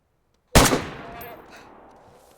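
A single loud rifle shot rings out in DayZ during a deer hunt, a sharp crack from near silence followed by a long fading echo.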